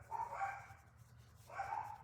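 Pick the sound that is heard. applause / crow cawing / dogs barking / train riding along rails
dogs barking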